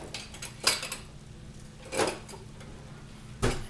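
Metal kitchen tongs clack against a pan of spaghetti in sauce in three separate sharp clattering bursts, spaced a second or so apart over a low steady background hum.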